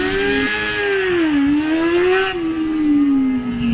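A Honda F2 600cc sidecar outfit engine pulls away from the start line at a motorbike hill climb, a loud, steady high-revving drone whose pitch dips and climbs with the throttle, close by and alone without talk.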